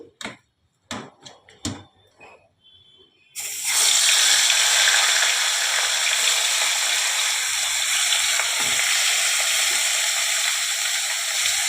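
Fish heads fry in hot oil with a steady, loud sizzle and spatter that starts suddenly and holds for several seconds, following a few sharp clinks and scrapes of utensils.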